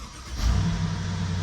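A 2007–2015 Mercedes-Benz GL 450 engine cranks and catches, rising into a low steady idle rumble up close, with no talking over it.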